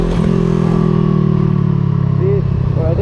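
Motorcycle engine revving steadily as the clutch is let out for a beginner wheelie in a parking lot, a loud, close, sustained drone that rises slightly near the end.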